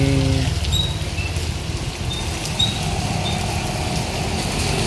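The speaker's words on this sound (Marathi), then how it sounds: "थोडा छोटा हलका मध्यम असा पाऊस चालू आहे" Steady rain falls in a continuous, even hiss and patter, unbroken throughout, with no voices.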